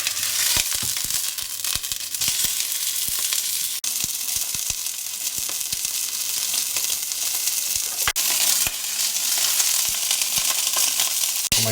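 A ham roast browning in a pan sizzles loudly and continuously, a dense hiss with frequent crackles and spits, close and unbroken, with no one speaking.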